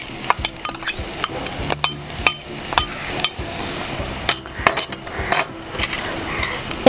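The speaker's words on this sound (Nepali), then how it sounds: "अब म यसमा एउटा ठुलो प्याज काटेको टुक्रा हाल्छु।" Chopped onion tossed into hot oil with panch phoron over a high flame, sizzling under repeated sharp clinks and scrapes of a spoon against the pan, close and busy.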